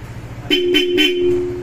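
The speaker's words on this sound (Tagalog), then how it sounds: "Ito ba busina niya?" Three quick car horn toots in a row, close and loud, the last one held longer, over a low engine hum.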